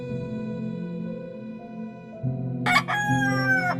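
A white Leghorn rooster crows once, loud and close, with a strained rising call that trails off, over a background of steady tonal hum.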